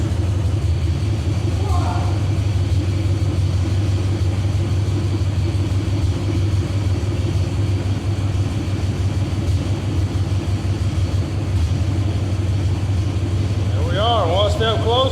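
A classic Ford Mustang with a cheap $100 transmission rumbles at a low, steady idle up close and creeps under power, with people talking briefly over the engine.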